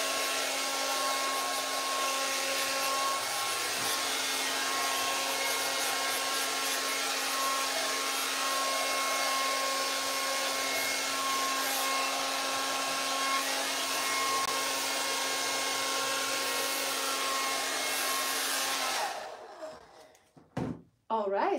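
A hair dryer blows on an alcohol ink painting on canvas with a loud, steady whirring hum and a fixed whine for most of the stretch, then it switches off near the end, leaving brief quieter handling noise.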